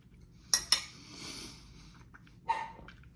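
A dog named Buddy gives a few sharp indoor barks, two quick ones close together and a third a couple of seconds later, fairly faint against a quiet kitchen background.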